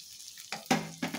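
Onion and green chili sautéing in a pan give a quiet sizzle with a few short bursts of stirring scrape, brief and close, with no one talking.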